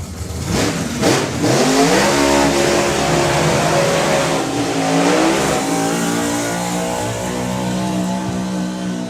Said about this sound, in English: So an uncharacteristically low revving burnout for Dave Smith there with the 55